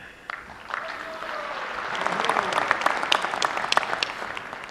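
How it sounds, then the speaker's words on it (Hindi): An audience at a public event applauds, starting with scattered claps and building into steady, dense clapping. "मैं ताली बजाना शुरू हो गया"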